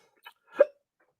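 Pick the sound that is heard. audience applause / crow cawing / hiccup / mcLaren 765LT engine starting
hiccup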